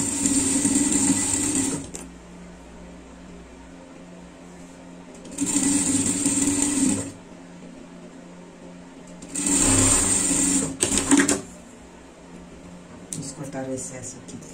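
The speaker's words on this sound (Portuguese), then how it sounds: "vamos passar uma costura aqui" Sewing machine stitching a seam under the arm of a tracksuit jacket, three loud whirring bursts of a few seconds each, separated by pauses in which a person speaks.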